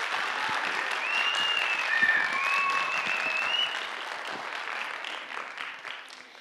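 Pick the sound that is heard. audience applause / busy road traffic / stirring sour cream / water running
audience applause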